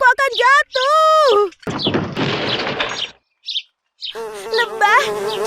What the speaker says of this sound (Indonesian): Lebah, cepat lari,